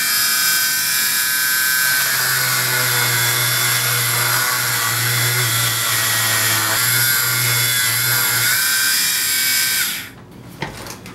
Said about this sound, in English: we'll salvage it with our little Dremel tool